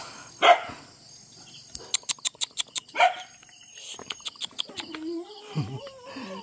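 A few sharp yaps from puppies on a livestock farm, with bursts of rapid clicking between them and a faint whine near the end, fairly close.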